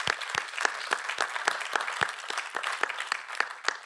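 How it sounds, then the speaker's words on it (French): Conference audience applauding at a talk on ocean issues, sparse individual claps standing out sharply over a softer bed of clapping, a fairly small crowd heard from nearby. "une femme qui est ici présente et que j'aimerais que nous applaudissions, qui est Isabelle Vallée"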